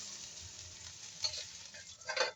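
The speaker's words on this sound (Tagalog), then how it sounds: "Dito na rin guys ako magbibigisa ng bawang sibuyas" Garlic and onion sautéing for tinola, a steady soft sizzle of frying in oil with light stirring scrapes, and a brief louder burst of sizzle near the end.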